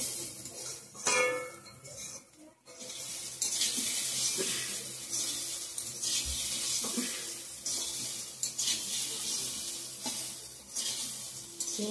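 Water pours steadily into a khichuri pot of fried spiced rice and lentils, a continuous close splashing and trickling that runs through most of the stretch with faint clinks of utensils.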